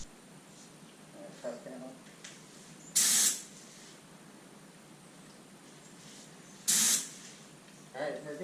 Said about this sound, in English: Let's spray.